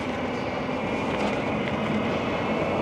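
An e-bike motor at full throttle on an uphill climb: a steady, loud whirring drone with broad wind-like roar, constant throughout without break.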